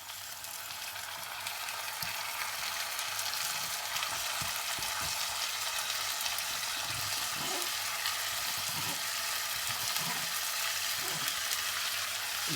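Rice is tipped into a pan where peas, paneer and cashews are sautéing for pulao, over a constant hissing sizzle of frying, with soft scraping stir strokes coming through at intervals.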